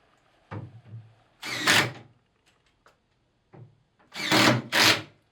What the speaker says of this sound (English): I put 2 screws in here on the pier just to lock everything down